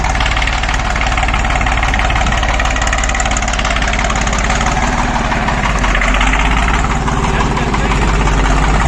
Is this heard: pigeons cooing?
no